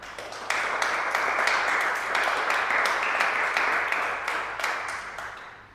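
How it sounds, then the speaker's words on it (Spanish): A church congregation applauds during a sermon, a sustained crowd of dense clapping that swells quickly and holds steady for several seconds before easing off, with no talk over it. "Denle un aplauso al Señor."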